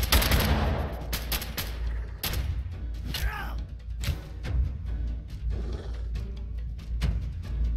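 Rapid gunfire bursts from the video game Fallout Shelter, a string of sharp shots and volleys with short gaps between them and a faint voice now and then.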